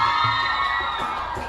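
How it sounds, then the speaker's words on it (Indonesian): A campus pageant grand final audience claps and cheers for a finalist, loud and sustained, with whoops and shouts from a large crowd throughout. "Boleh beri tepuk tangan lagi untuk nomor urut"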